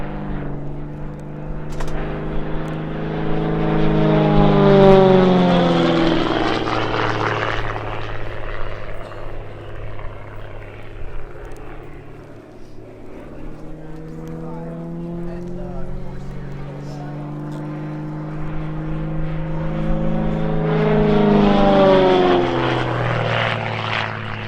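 A Gamebird GB1 aerobatic propeller plane performs at the Sywell airshow, its engine swelling loud on two close passes with strong Doppler pitch sweeps and easing in between as it moves farther away.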